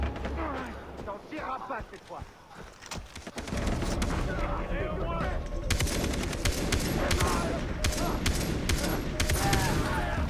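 Far Cry 3 gameplay with rapid bursts of automatic gunfire crackling from mid-clip onward, dense and sustained over ambient jungle noise, with faint bird calls early on.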